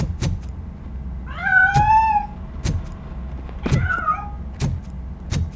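Two separate cat meows in the video game RoboCop: Rogue City, each a rising, wavering cry, with sharp clicks or taps between them over a steady low background hum.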